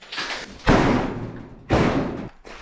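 A heavy door on a desert Cold War missile test site control bunker is forced open with two loud, grinding thuds close by, each a long, rough scrape and rumble, with a short pause between them.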